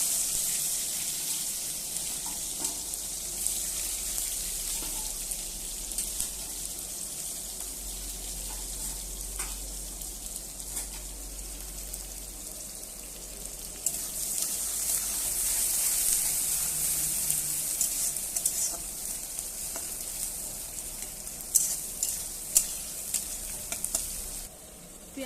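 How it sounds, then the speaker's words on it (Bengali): Onions frying in hot oil in a kadai, a steady faint sizzle with stirring scrapes and occasional clinks, no talking. "তেল গরম হয়ে গেছে, পেঁয়াজ দিয়ে দেবো।"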